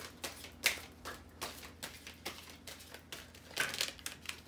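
Quick papery riffles and soft flutters of tarot cards being shuffled by hand, several bursts in a loose rhythm, close and fairly quiet.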